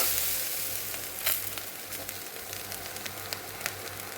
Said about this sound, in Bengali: আমি নারকেল কোড়াটা দিলাম, এটা একটু অন্যরকম টেস্ট হবে, তাই এটাকে আর একটুখানি জাস্ট ভেজে আমি এটা নামিয়ে নেব।